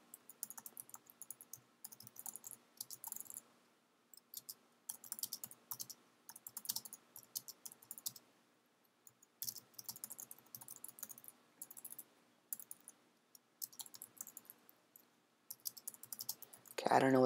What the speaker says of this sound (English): I'm just going to do a little typing here